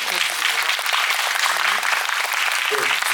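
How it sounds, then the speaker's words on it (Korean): An audience at a Korean film screening Q&A for Veteran 2 gives sustained applause, a dense, steady wash of many hands clapping throughout, with a voice faintly audible beneath. "여러분 큰 박수"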